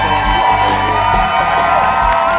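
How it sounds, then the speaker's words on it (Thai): A television studio audience cheering and whooping to welcome a guest on a talk show, a loud, continuous crowd roar with bright shouts over it. "ขอเสียงปรบมือต้อนรับแขกรับเชิญของเราอีกคนนะคะ"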